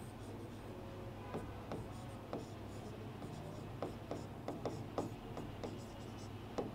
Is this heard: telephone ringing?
no